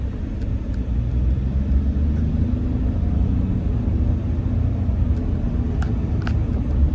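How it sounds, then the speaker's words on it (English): A car rolling down a bumpy road, heard from inside the cabin as a steady low rumble of tires and engine, with occasional faint knocks and rattles. "We're kind of going down a bumpy road."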